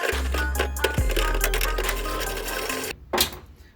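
Two 10 mm nuts come off a Suzuki Samurai door, with a ratcheting, whirring tool run under a low hum, then a brief pause and a final clatter, close by.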